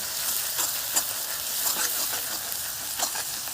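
Steady sizzling of garlic frying in hot oil, with a few soft stirring scrapes and crackles, close and continuous with no talking.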